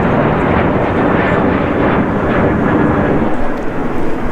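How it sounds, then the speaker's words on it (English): A passenger jet climbing after takeoff from Phoenix airport over Tempe, Arizona, heard as a loud, steady broadband engine roar with rumble, continuous throughout and without speech. "these planes are coming every few minutes here, just going up"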